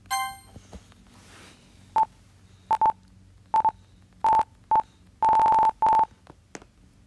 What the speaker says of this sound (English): I think I can get on my phone